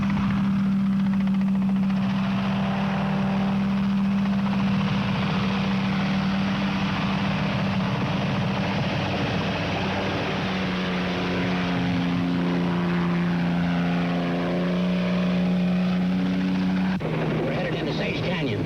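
A helicopter flies steadily close by during a sheriff's chase over a canyon road, its rotor and engine droning loudly with a sustained low hum and throbbing harmonics, shifting slightly in pitch near the end, with voices talking over it.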